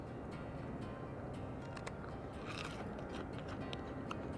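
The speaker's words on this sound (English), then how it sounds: "I will say I really like the crunch of these nuggets." Someone bites and chews crunchy caramel-coated cornmeal nuggets, brittle crackles scattered over a faint steady background with no talking.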